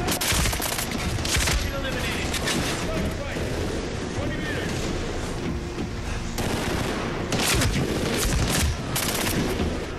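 Video game gunfire from Medal of Honor Warfighter: dense bursts of automatic weapons and heavy shots crackle almost continuously, loud and close, with booming impacts and a voice speaking over the combat.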